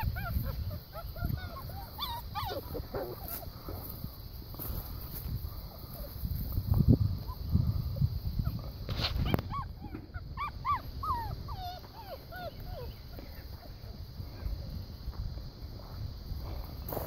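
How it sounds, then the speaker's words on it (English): A litter of young puppies whimpers and yips in sunlight, many thin high cries and squeaks scattered over rustling and movement, close by, with no talk over them. "You're the best little puppies"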